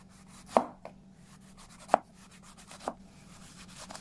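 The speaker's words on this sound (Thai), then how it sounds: "ใช้เป็นส้มแมนดารินแบบนี้ ผ่าเป็นชิ้นแบบนี้" A knife slices a mandarin orange into pieces on a cutting board, giving three distinct close chopping thuds spaced a second or so apart, while punch is being prepared for a party.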